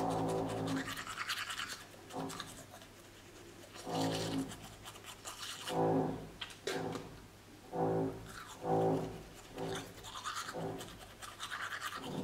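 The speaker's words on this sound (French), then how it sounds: "je me brosse les dents, moi, comme tous les matins." A toothbrush scrubs teeth in a series of rhythmic back-and-forth strokes, close and fairly quiet, with short pauses between bursts of brushing and no talking over it.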